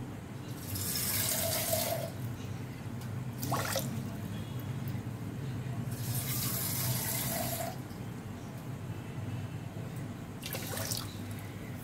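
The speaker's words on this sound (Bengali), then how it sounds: "আর একটু জল দিতে হবে।" Water runs from a tap into a pan of sugar syrup for a raw mango rosogolla in a home kitchen, coming in two steady pours with drips between them over a background hum.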